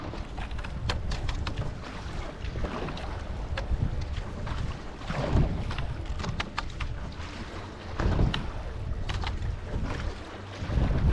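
Choppy water from a passing cruiser's wash slaps and splashes against a small rowing boat on Loch Ness, a continuous rough wash with irregular surges under steady wind noise.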